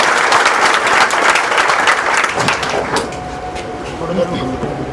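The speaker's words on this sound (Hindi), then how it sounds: "जोरदार तालियों से इनका स्वागत किया जाए।" Loud applause from a gathered crowd at a village rally welcoming a speaker, dense and continuous throughout with voices underneath.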